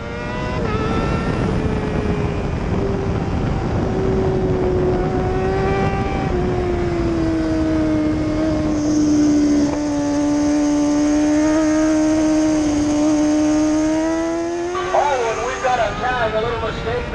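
Racing motorcycles in an AM 600 Extreme round lap Grand Bend Motorplex, their engines whining in a loud, continuous high-revving drone that slowly falls and rises in pitch, with commentary running over it.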